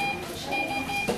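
A telegraph-key buzzer sounds the Morse letter B as a steady, close electronic tone: one long beep, then two short ones.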